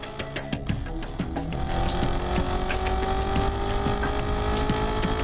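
A 2014 Chevrolet Corvette Stingray with its 6.2-liter small-block engine is driven at speed, giving a steady, loud engine drone with rising harmonics and road noise throughout.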